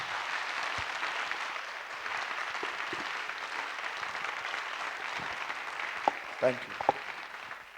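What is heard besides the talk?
congregation applauding at a prayer meeting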